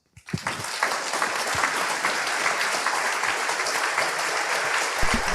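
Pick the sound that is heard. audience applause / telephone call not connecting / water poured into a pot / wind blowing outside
audience applause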